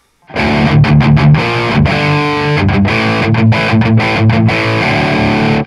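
A heavily distorted electric guitar through a Flamma FX200 multi-effects unit set for metal plays chunky chords with short stops and restarts, loud and dry, with a driven, saturated tone.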